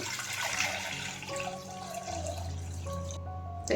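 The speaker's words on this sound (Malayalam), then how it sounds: "അതിലേക്ക് ഞാൻ ഇതാ വെള്ളം ഒഴിച്ചു കൊടുക്കുകയാണ്." Water pours into a 3-litre pressure cooker in a rushing, splashing stream that shifts in pitch as the pot fills, steady and close throughout with no speech.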